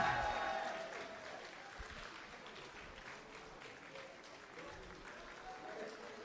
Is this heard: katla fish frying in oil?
no